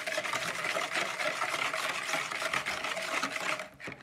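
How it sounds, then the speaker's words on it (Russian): Whisking bun dough ingredients (flour, dry yeast and sugar) in a bowl: a steady, brisk scraping and rustling of the whisk, close and continuous, with no talking. "И венчиком все перемешали."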